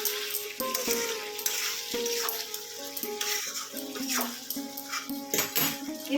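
Salt is stirred into a jackfruit and shrimp curry cooking in a pan. It makes a continuous soft sizzle with irregular stirring scrapes, with some tonal background sounds mixed in.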